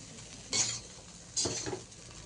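Two soft scraping strokes of a utensil move through chow mein with egg in a pan, a quiet brushing and clinking against the metal over a faint background hiss.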